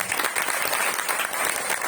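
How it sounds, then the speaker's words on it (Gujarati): An audience at a religious gathering claps steadily in a dense, continuous burst of applause, close and even throughout with no pauses. "તાળીઓ વગાડી દો"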